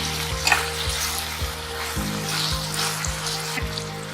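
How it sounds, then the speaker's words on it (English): Green chilies and chopped onion frying in a pan, with a strong steady sizzle and a rhythmic series of scraping stirs from a spoon running through it; no talk. "Now add the green chilies and then onion. Stir them well."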